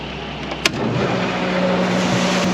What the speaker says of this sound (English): We're going to turn on our conveyor